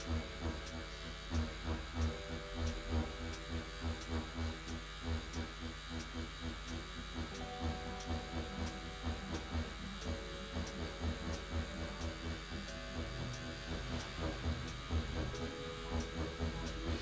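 A tattoo machine shades black-and-gray work with a swinging motion, giving a steady, faint electric buzz with a fast even pulse that runs throughout.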